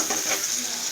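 Onions sauté in a pan, giving a steady, close hiss of frying sizzle that holds evenly for the whole brief moment.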